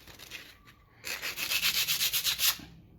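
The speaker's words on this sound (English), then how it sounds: "now I'll just emery cloth down the rust on the armature" Emery cloth rubbing rust off the armature of a Johnson Evinrude outboard starter motor, a quiet start followed by rapid rhythmic back-and-forth scrubbing strokes, close and loud.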